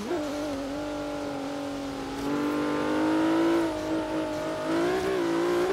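A car engine in Forza Horizon 3 revving through long-spaced gears, its strained whine rising, dipping and climbing again as shifts come, loud and close with no talk.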